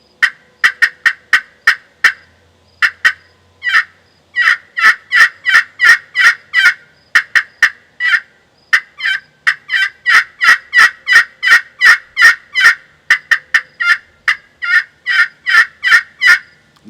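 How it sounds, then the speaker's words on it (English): Turkey clucks scraped at a 45-degree angle across the grain of a glass pot call, a long run of sharp, evenly spaced yelps and clucks, loud and close with no talking. "as we're doing our clucks across here, 45-degree angle, remember we're going across the grain"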